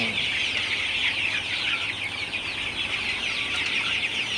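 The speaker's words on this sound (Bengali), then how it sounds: "আপনারা দেখতে পাচ্ছেন যে আমার মুরগিগুলো মাসাল্লাহ সুস্থ আছে ভালো আছে" Sonali chickens in a poultry farm shed, a dense overlapping chorus of clucking and chirping from many birds, loud and continuous with no talk.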